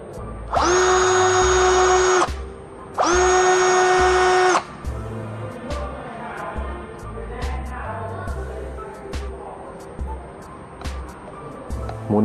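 A YT-82782 cordless drill driver spins up in reverse in two loud, steady whirring bursts of about two seconds each, followed by quieter handling noise and faint background sounds.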